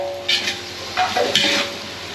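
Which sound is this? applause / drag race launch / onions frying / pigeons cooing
onions frying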